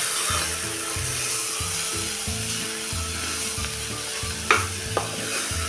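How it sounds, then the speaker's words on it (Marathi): Ground peanut powder sautés in oil with a steady close hiss of frying, soft rubbing strokes of a spatula and two sharp scrapes near the end, under a constant low background hum. "तेलात हे कूट चांगलं परतल्यामुळं आपल्या कालवणाला कट पण चांगला येतो"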